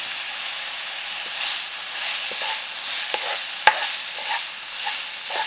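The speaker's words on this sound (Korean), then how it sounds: "대파를 넣어 볶는다." Oil sizzles steadily in a hot pan over medium heat while chopped green onion, minced garlic and ginger are stirred, with occasional scrapes and a sharp clack of a utensil.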